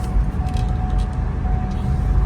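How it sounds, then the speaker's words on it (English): Dense road traffic with cars passing close by: a steady, loud engine and tyre rumble that continues throughout, with no clear gaps between vehicles. "And welcome back to the crazy traffic."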